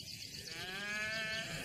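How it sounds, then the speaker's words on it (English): A single cow moos in a long, drawn-out low call with a rising tone, close and fairly loud, no one talking over it. "It was only a cow, Gary."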